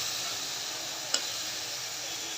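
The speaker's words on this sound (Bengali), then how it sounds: "এদিক দিয়ে পেঁয়াজ আর টমেটোগুলো আমি একবারে ভাজা ভাজা করে নিব।" Onions and tomatoes fry in a pan while a fish curry is prepared, giving a steady, moderately quiet broadband sizzle throughout, with one brief sharp click near the middle.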